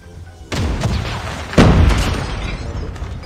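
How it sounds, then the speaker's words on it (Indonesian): Two sharp, loud rifle reports from an enemy sniper in a first-person shooter, the first at about half a second and a stronger one a second later, each with a lingering echoing tail. "Musuh gue pakai sniper."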